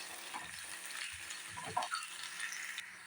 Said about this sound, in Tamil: கைப்பிடி அளவு பெரிய வெங்காயங்க, கொஞ்சமாக கருகாப்பு, இதையெல்லாம் போட்டு நல்லா வணக்கி விட்டுக்கலாம்